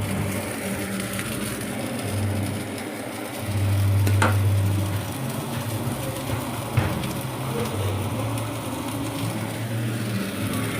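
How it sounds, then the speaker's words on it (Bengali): Cauliflower pieces, first coated in salt and turmeric, fry in a little oil with a steady, broadband sizzle that holds close and even throughout, and a low hum briefly swelling near the middle. "তারপরে একটু তেল দিয়ে ভেজে নিচ্ছি"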